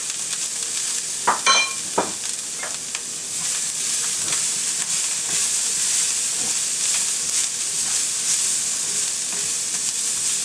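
Onions stir-frying in a pan for beef lo mein make a loud, hissing sizzle, with a few sharp utensil knocks early on before the steady frying noise carries on alone.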